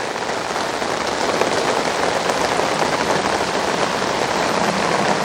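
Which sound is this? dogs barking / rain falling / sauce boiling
rain falling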